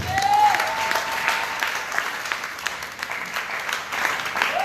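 A church congregation claps and cheers for the Lord in a sustained, dense burst of applause from a large crowd, with a faint voice briefly audible within it.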